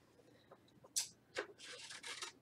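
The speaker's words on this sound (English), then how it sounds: "And now I'm going to cut him out." Scissors cut out a paper bat in a few soft, close snipping and rustling bursts that grow busier toward the end, quiet overall.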